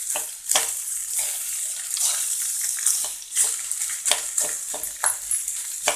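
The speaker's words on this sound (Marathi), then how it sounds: "हे बटाटे परतवता परतवता आपल्याला थोडे थोडे स्मॅश करून घ्यायचे आहेत" Boiled, chopped potatoes for mini vada chaat sautéed in a pan, with a steady close sizzle broken by repeated scraping and mashing strokes from a spatula at an uneven rhythm.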